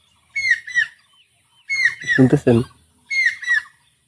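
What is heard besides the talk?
birds calling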